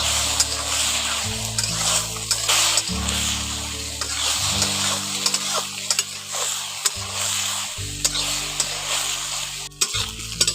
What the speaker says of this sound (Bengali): সয়াবিন আর ডিমগুলো দিয়ে ভালো করে নাড়াচাড়া করে একটু ভেজে নিচ্ছি।